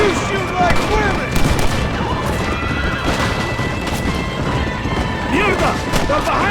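Gunfire crackles through a chaotic shootout with rebels in Red Dead Redemption, scattered shots and crashes running steadily under shouted voices and dense battle noise.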